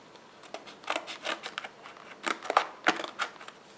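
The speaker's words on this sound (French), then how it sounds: "Pareil, pas besoin du couteau tomate. Ciseaux suffira." Scissors snip through the plastic packaging around an SSD, with a series of close, crisp cuts and crinkles in uneven bursts and no voice over them.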